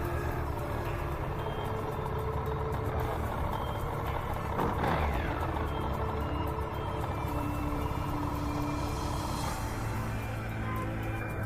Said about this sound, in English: the driver of the car is backing up on a narrow country road and runs over a dog lying in the middle